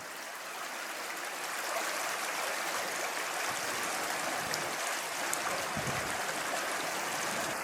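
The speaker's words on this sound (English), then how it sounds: "down there you can hear Penitentiary Creek flowing through the rock formations" Penitentiary Creek runs through rock formations at Alum Rock Park in San Jose, California, giving a continuous broadband rush of flowing water that holds steady, with a few faint low bumps partway through.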